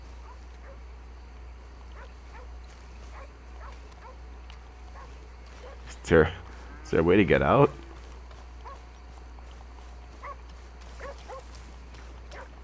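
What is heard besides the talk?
dog barking in Red Dead Redemption 2 video game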